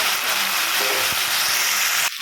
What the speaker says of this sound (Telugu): బంగాళదుంపల్ని వేసి మొత్తం ఒకసారి కలుపుకోవాలి పోపు ఆయిల్ అంతా పట్టేటట్టు